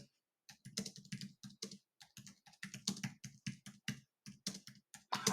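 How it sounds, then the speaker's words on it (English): Fast clattering keystrokes on a computer keyboard, typed in quick bursts with brief pauses, close and clear with no talking. "I'm typing. It's very rare that I type."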